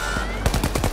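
A turret in The Finals opens up with a rapid burst of automatic gunfire, around six sharp close shots in quick succession after a brief lull.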